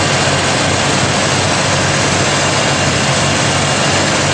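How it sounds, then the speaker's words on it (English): A Jeep straight-six engine idles steadily with its exhaust running, a loud, constant broadband rumble with no breaks, sputters or backfires, heard close up and alone. "I'm going to walk around and I'm going to show you so you can hear the exhaust"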